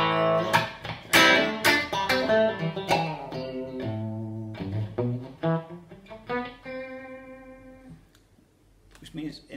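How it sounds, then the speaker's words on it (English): A 1983 Tokai Strat electric guitar played through its bridge pickup gives bright, clangy strummed chords and picked notes with sharp attacks, ringing close and loud before fading near the end. "it does that clangy, stratty bridge pickup sound"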